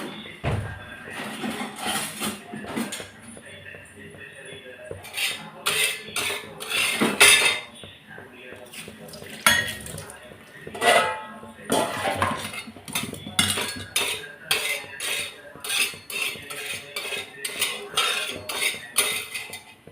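Rock salt is scrubbed around a hot metal dosa pan, giving repeated gritty scraping and clinking strokes, close and irregular, in bursts across the stretch.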